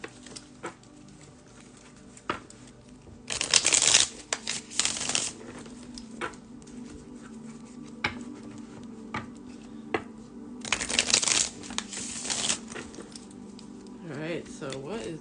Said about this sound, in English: One more deck I gotta shuffle.